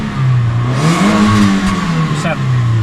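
A Daihatsu All New Terios engine revs hard toward 7,000 RPM on a quarter throttle, a loud, rising mid-pitched drone that holds steady, with someone talking over it throughout.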